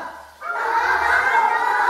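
A child imitates a chicken with a sustained, strained clucking-like vocal cry, close and steady for over a second after a short pause.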